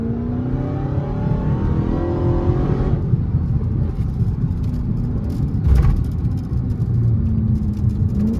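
A Dodge Hellcat accelerating hard as its tires lose grip, a loud sustained engine roar with a brief spike in the middle, heard close with no talking.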